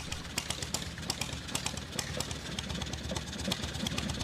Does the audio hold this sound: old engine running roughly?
yes